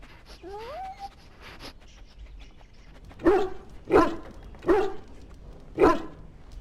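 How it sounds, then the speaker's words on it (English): In Dragon Age Origins, a dog gives four sharp, evenly spaced barks in the latter half, preceded by a brief whining, rising vocal sound, over a quiet game background. "Get the dog out and keep him away, I beg you."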